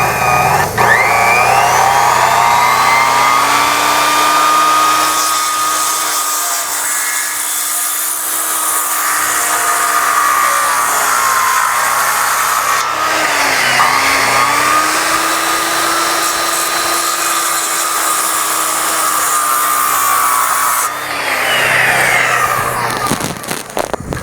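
A 2,000 watt portable generator runs loudly and close at a construction site, a steady droning engine hum whose pitch dips and recovers briefly, with a harsh mechanical roar throughout.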